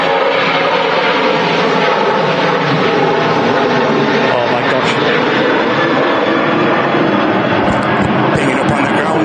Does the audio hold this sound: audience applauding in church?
no